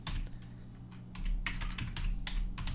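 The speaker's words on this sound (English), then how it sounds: "we're going to type in" Typing on a computer keyboard during After Effects work, quick bursts of close, crisp key clicks in short runs with brief pauses, fairly quiet and with no talking.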